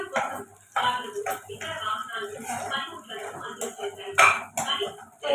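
A spoon clinks and scrapes against a metal pot as cinnamon, cloves, bay leaf and cardamom are stirred together. A person talks over the clatter the whole time.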